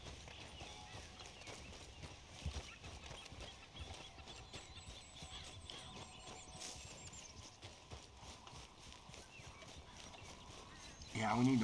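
Horse hooves clop in a steady walking rhythm in Red Dead Redemption 2, fairly close, while someone talks over them throughout and a louder burst comes at the very end.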